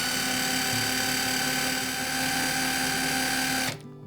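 A Hercules HD81B 12 volt impact driver runs at no-load speed with a loud, steady high-pitched motor whine, then stops abruptly near the end.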